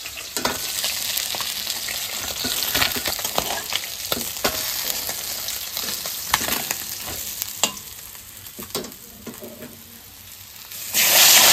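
Fish pieces fry in hot oil with a continuous close sizzle broken by frequent sharp crackles and spits, ending in a louder burst.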